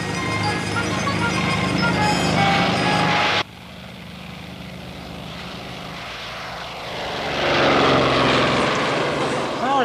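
A propeller airplane drones loudly nearby, then its engine roar drops off suddenly and continues as a rough, fading hum, swelling again briefly as it pulls away.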